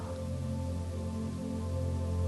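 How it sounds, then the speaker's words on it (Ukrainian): Soft rain starts to fall, heard as a faint, even patter of drops beneath a sustained low ambient drone. The sound is calm and continuous, with no voices. "Почав падати дощ?"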